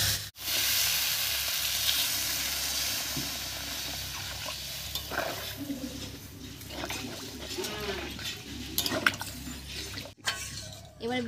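Water is poured into ginger paste frying in a pan for a Bengali drumstick ghonto, giving a continuous close hiss and sizzle with stirring scrapes and faint background voices.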